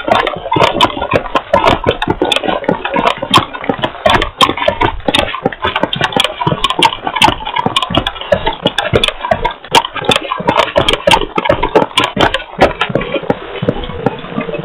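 A military vehicle engine in Arma 2 Operation Arrowhead, ACR mod, coming in from the northwest: a steady, loud mid-range drone with rapid ticking and clicking transients running throughout, no voices.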